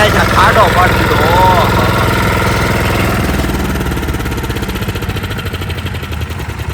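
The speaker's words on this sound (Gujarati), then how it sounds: "280 હોર્સ પાવર નું કેપ્ટન ટ્રેક્ટર છે." A 280-horsepower Captain tractor engine runs steadily at close range, a loud continuous mechanical drone that tapers slightly toward the end, with voices talking over it.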